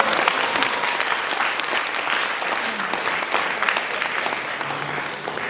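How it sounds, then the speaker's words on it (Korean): Audience applause at a festive Korean community celebration: dense, steady clapping from a crowd that fills the room at even loudness throughout. "여러분 여기서 박수 한번 크게 쳐주세요."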